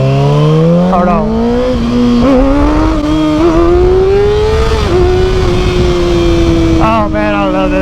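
A motorcycle engine hums steadily while riding, its pitch climbing gradually with brief revs, loud and close beneath a rider talking.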